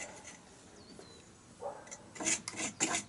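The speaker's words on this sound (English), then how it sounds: "We are cleaning well, scraping the mortar thoroughly in all angles and corners so that they are as clean as possible." A hand tool scrapes mortar from handmade bricks while building an elliptical arch. Quiet at first, then it builds into a run of rough, raspy scrapes, each one a short gritty burst close by.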